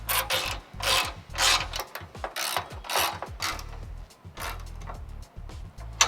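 A ratchet clicks in quick repeated bursts as a torque wrench with a TP55 bit tightens bolts on Rivian R1T running boards. The mechanical ratcheting is loud and close.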